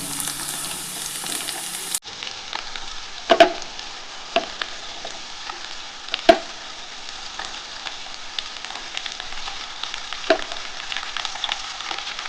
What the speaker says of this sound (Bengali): এবার ঝিঙেটার সাথে ভালো করে আলুটা ভাজতে হবে।